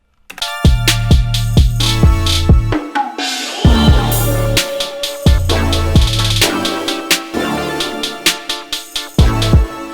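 The last chorus of a produced hip-hop beat plays back loud and dense: punchy bass and kick hits under layered synth and brass chords, with a short breakdown partway through before the full groove returns. No one speaks.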